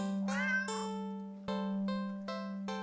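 A cartoonish cat meows in a video game, a series of several clear, tonal meows over a steady low background drone, loud and alone.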